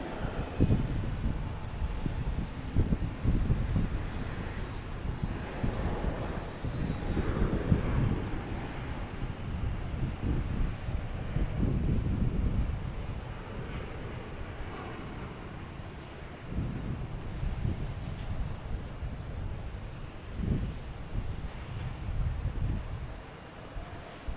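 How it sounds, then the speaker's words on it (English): A Delta Airbus A330-900 bound for Rome takes off from runway 4 right at Boston Logan. It gives a broad, distant engine roar with wind noise on the microphone, swelling and fading over about twenty seconds. "now we have the Delta lined up in 4 right, heading to Rome. An A330-900, flight 112."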